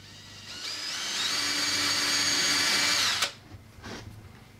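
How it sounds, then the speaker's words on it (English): A power drill bores a hole through a wooden 2x4 mounting board: a rising whine holds steady for about two seconds, then cuts off with a clunk, close and loud. "So now I can go ahead and drill my holes in the mounting board"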